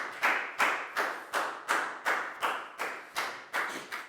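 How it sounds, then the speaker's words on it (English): A class of students clapping together for a classmate in a maths lesson, a steady rhythmic beat of about ten loud unison claps, close and regular. "Big round of applause for Net,"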